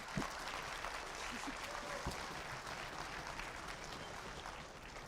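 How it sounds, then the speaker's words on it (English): Steady, dense applause from a school audience at a beginning band concert, sustained and even for the whole stretch with a few sharper claps near the start, no talk over it. "Let's give everyone a round of applause."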